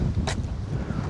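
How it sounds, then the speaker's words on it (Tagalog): Strong wind gusting outdoors at a house construction site, a steady low roar buffeting the microphone with one brief louder gust. "Grabing hangin yan. Ang lakas."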